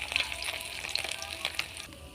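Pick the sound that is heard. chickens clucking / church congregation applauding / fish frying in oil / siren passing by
fish frying in oil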